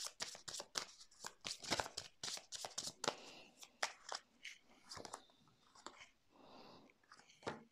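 Tarot cards shuffled and handled in quick bursts of crisp riffling and slapping, close and irregular, with a softer rustling stretch partway through and no clear talk.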